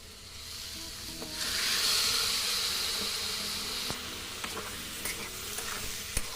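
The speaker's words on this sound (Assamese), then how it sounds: "এতিয়া মই মছলাখিনি দি আৰু অলপমান ভাজি ল'ম" Jackfruit pieces frying with spices in a pan give off a steady, moderately quiet sizzle and hiss. The sizzle swells after the first second, then settles into a softer crackle with a few small clinks, and no voice is heard.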